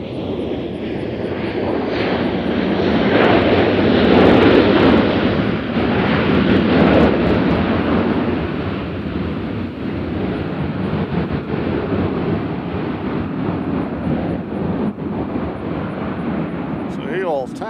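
A plane landing at Nashville International Airport produces a loud, sustained engine roar mixed with wind rumble that swells and then holds steady as it rolls out, with voices talking over it.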